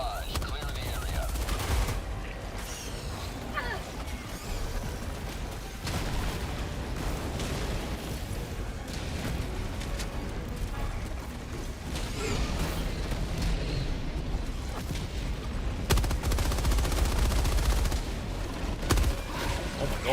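Dense Helldivers 2 combat on difficulty 10: a barrage of booming explosions and rapid gunfire roll on continuously for twenty seconds, heavy low rumbles under crackling shots, with players talking over the chaos.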